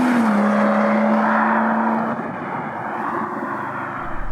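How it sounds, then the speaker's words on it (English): A standard BMW M140i's exhaust drones steadily, loud and close, with a sustained low engine note that eases off midway and carries on under the rushing noise of the car moving. "Next, which kind of goes with it, is got to be the sound of the car."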